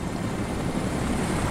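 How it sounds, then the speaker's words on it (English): Helicopter rotor drone from the video game Crysis Warhead, a steady, continuous thrum holding at a constant level throughout, with no voices over it. "Wait, helicopter?"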